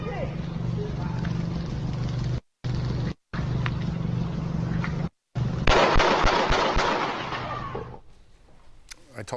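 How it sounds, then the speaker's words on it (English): Sharp bursts of gunshots ring out on a cell phone recording of a police shooting, muffled and noisy with brief dropouts in the sound, followed by a louder chaotic stretch that fades out. "you will still hear the gunshots."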